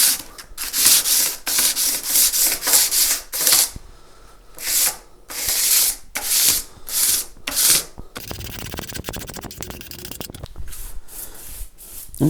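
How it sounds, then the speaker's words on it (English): Frets on a Precision bass build are sanded with a flat wooden block to remove 120-grit scratch marks, making rhythmic back-and-forth rasping strokes, close and loud. A softer, finer scraping texture follows, with no talk. "I'm just going to use this to polish out the scratch marks that the 120 grit has left in"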